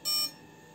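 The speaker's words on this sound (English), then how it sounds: "So that is ESC sound." Short electronic startup tone from a drone's ESCs on a Pixhawk 2 quadcopter, a single bright beep lasting about a quarter second, then a faint steady hum, near and moderately quiet.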